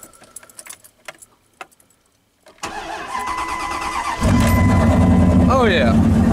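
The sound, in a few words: pickup truck engine starting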